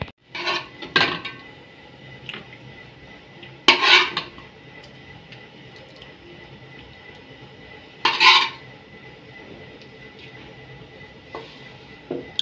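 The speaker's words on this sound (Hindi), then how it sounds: "ये अब हमारा कलेजी पोटा तैयार हो गया। मैं डिश आउट करके दिखाता हूँ।" Metal utensils scrape and clank against a cooking pot as cooked chicken kaleji pota is served onto a dish, with a few sharp louder scrapes among softer shuffling and rubbing in a quiet kitchen.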